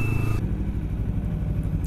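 A BMW 7 Series car passes on the road, heard as a steady, fairly loud low engine and tyre rumble lasting about two seconds without a clear rise or fade.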